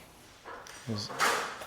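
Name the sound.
drawer blocked by handle, failing to close against countertop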